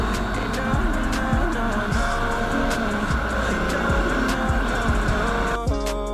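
A Bajaj Pulsar RS 200 motorcycle is ridden hard, its engine loud and close and droning continuously, with repeated rising revs as it accelerates through the gears. No one speaks.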